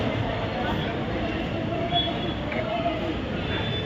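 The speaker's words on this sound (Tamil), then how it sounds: "இந்நேரத்துக்கு பாருங்கள் ரயில்வே ஸ்டேஷன் எவ்வளோ பேர் பாருங்கள்." A busy railway station platform at evening rush hour, with the steady rumble of a train, faint squealing tones and a constant murmur of crowd noise throughout.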